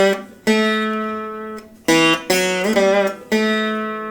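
A Karaharapriya raga phrase played with the Ga note held at its own pitch, as a melodic instrument sounds a few sustained, clearly separate notes with a brief slide, each entry starting crisply.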